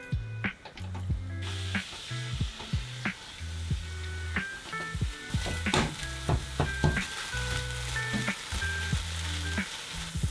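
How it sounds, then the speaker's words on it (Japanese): Ingredients stir-fried over medium heat in a pan give a steady sizzle, broken up by frequent scraping and tapping clicks as the food is stirred and broken apart, with soft background music. "中火にしてざっくり崩しながら炒める。"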